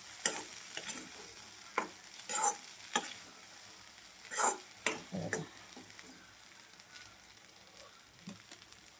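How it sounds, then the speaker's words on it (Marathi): Sprouted bean usal being stir-fried in a pan, heard as faint soft sizzling with irregular scraping strokes of a spatula, fairly close and quiet, with no talking. "आता याला एकसारखं परतून घ्यायचं असं."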